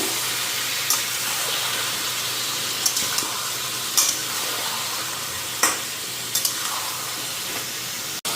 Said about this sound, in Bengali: চিকেনটা একটু হালকা ফ্রাই করে নিই